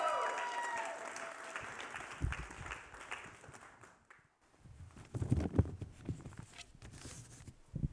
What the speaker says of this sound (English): Would you give Logan a round of applause as she comes up to stage